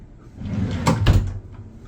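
A hotel room drawer slides and thumps shut nearby, two quick wooden knocks over a soft, steady room background.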